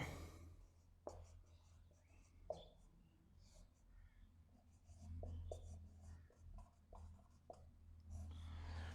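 Pen on paper as handwritten notes are made, soft scratchy strokes in short bursts with pauses between, quiet and close in a still room, with faint murmured breathing or whispering underneath.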